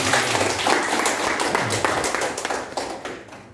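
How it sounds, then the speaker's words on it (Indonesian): Audience of teachers at a curriculum training session at a high school clapping hands, a dense burst of applause that is loud at first and gradually tapers off. "Kita tepuk tangan dulu."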